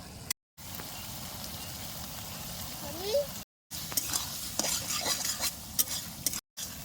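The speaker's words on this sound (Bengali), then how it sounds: "গরম মশলা দিয়ে বেশ ভালো করে নাইরা চেরা মিশাই নিছি" A spoon stirs vegetable chhecha jhal in a pan after garam masala is sprinkled on, with close scraping strokes over a steady sizzle. Brief gaps of near-silence break the sound, and a faint whistling tone rises midway.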